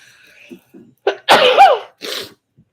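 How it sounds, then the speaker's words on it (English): A close, loud sneeze with a quick breathy intake before it, then a short exhaled tail; no talking. "Because I have to sneeze."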